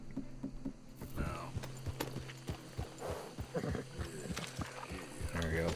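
Horse hooves clip-clop at a steady walking pace in Red Dead Redemption 2, mixed with low game ambience and a faint whinny, while someone talks over them throughout.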